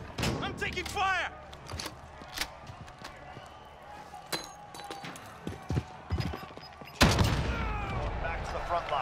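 Gunfire in Call of Duty: Modern Warfare, with sharp single shots and short bursts scattered across the fight, a heavy close burst near the end, and shouted voices mixed in.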